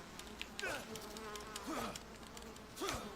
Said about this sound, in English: Oh, they're attacking me. Stupid bees.